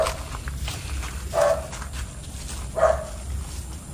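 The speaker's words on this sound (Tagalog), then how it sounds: "ano yung aso?" In an abandoned village, a dog barks twice, a couple of moderately distant single barks about a second and a half apart, over faint outdoor background noise.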